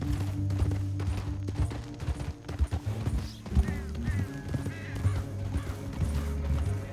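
Horse hooves clip-clop in Red Dead Redemption 2, a steady rhythmic beat under game music and ambience, moderately close with a few louder thuds midway.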